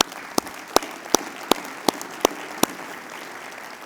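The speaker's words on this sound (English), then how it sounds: "a round of applause." Conference audience applause, a steady wash of clapping from a large room, punctuated by a series of sharp, evenly spaced loud claps near the microphone that stop partway through.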